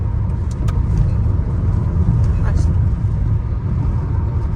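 Inside a moving car on a rainy day, a loud steady rumble of engine and road noise fills the cabin without a break.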